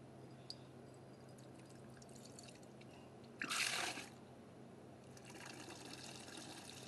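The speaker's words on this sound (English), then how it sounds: "now I'm going to drop the trub out of the bottom, which is pretty easy" Trub drains from the bottom valve of a homebrew vessel holding a chilled ESB: a brief, fairly faint gush of pouring liquid lasting under a second amid quiet room noise, with a softer trickle afterward.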